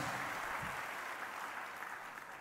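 Church congregation clapping loudly after a sermon, a dense, even patter of applause sustained at moderate distance and tapering slightly at the end.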